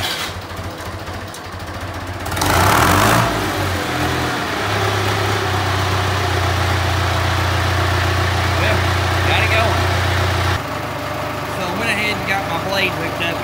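An old David Brown diesel tractor with no grid heater, block heater or ether cranks over and catches, settling into a loud, steady low idle with a brief rev near the start and some background noise.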